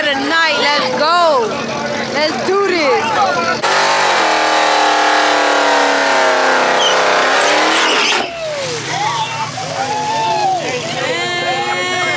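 Street race cars in Mexico launching and accelerating, a loud roaring engine burst in the middle with rising gear-change sweeps, crowd chatter and voices before and after.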